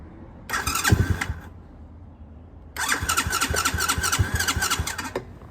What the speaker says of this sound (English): I'm gonna start it by pushing this button right here.